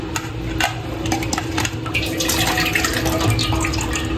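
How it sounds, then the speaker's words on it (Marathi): Cold water poured over boiled soybean chunks in a sieve, splashing and running water with drips and light metal clinks from the pot and strainer. "इथे बघा थंड पाणी टाकायचं आणि चालणीत असं काढून घ्यायचं"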